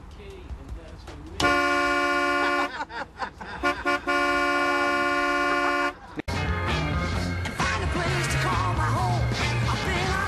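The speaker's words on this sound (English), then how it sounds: "It's time to stop the horn from honking," A car horn blares in two long, sustained honks separated by a brief gap, loud and close, with voices talking and laughing around it before a busier stretch of street noise.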